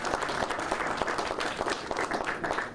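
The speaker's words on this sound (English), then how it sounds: "Let's give them a round of applause if you would" A crowd at a Georgia governor's public event in Augusta claps steadily, a dense patter of many hands at moderate volume with no voices standing out.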